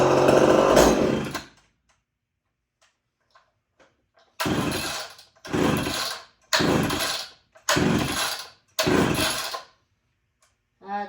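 A Homelite Big Red Super XL chainsaw with an air leak in the carburetor, heard as a loud close burst followed by five short, evenly spaced revving bursts separated by silence.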